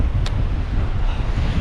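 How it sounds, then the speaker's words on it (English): Strong wind buffets the microphone on the Lincolnshire coast at Moggs Eye during cold surf fishing for bass, a steady loud rumble with faint surf hiss behind it and no voices. "It is windy."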